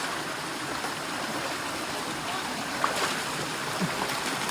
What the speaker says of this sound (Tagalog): Ayun na yung falls.